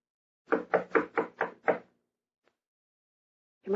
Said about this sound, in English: I will knock.